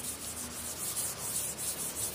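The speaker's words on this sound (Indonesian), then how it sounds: "jika anda tidak mempunyai mesin gerinda bisa juga amplas manual seperti ini" Wood is sanded by hand with sandpaper during finishing, with even rhythmic rubbing strokes close up and steady, no voices.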